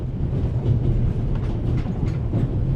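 A train rolls along rails in the video game The Raven, a continuous low rumble with a faint clattering texture, steady and close throughout.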